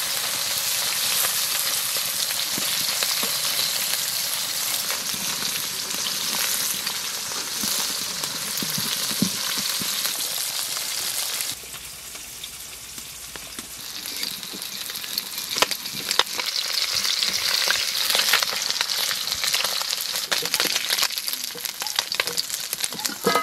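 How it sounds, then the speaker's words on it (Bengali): Small fish fry in hot oil in a wok over a long, steady crackling sizzle, dipping briefly in the middle before returning with busier pops and spatters, with no talk. "কড়াই তেল দিয়ে দিয়েছি মাছ দিয়ে দাও আচ্ছা দিব ভেজে দাও মাছগুলো"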